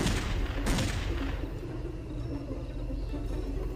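Grenade blast in a Ronald McDonald horror video game: a loud boom near the start, a second sharp burst shortly after, then a decaying rumbling tail.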